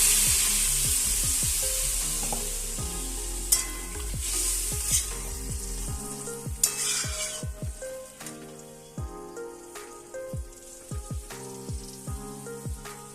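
Spice paste (masala) for a Chhath festival vegetable dish sizzles loudly in a pan as a little water is added. The hiss is strong at first, then softens after a few seconds, with clinks from stirring and faint musical tones underneath.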